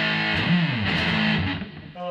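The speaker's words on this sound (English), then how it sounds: "playing some wicked fuzz tones on the old Strat" An electric guitar, a Stratocaster through a Sound Hound fuzz pedal, plays gritty, buzzing fuzz-distorted notes that sustain, then ring out into a cleaner, brighter chord at the end.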